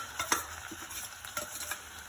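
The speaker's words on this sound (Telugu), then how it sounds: "ఇవన్నీ ఇలా 2 స్పూన్లు నూనె వేసుకుని తరిగిన ముక్కలన్నీ కుక్కర్లో వేసుకోవాలి." Chopped vegetables stirred in two spoons of hot oil in a pressure cooker, a constant light frying hiss with soft scraping stirs and a few small clinks, close and without speech.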